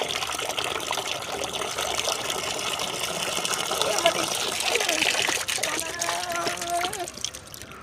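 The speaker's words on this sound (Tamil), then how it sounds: "ஃபஸ்ட்டு நம்ம வெளச்செடிக்கெல்லாம் தண்ணி விட்டுட்டு வந்துடுவோம்" Home garden plants being watered: a steady gushing pour of water splashing onto soil and leaves, fairly close and continuous, thinning toward a trickle near the end.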